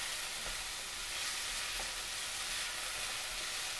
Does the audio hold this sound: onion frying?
yes